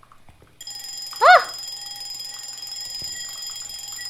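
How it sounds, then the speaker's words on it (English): An alarm clock in a ghost-hunting video game rings with a steady, bright electronic tone that holds for several seconds, close and clear, and a brief vocal exclamation cuts in as it starts. "Ringing an alarm clock."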